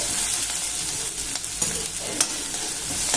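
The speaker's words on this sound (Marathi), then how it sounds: "आपला कांदा छान असा भाजला गेलाय" Onion frying in a pan until it turns pink, giving a dense, even sizzle close up with occasional light stirring clicks and no talking.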